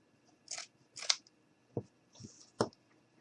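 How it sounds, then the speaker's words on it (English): Scissors snip through soft bedding material for a bunny craft, several crisp cuts spaced out at a steady pace, close and fairly quiet, with no talking. "I'm going to go ahead and cut some bedding."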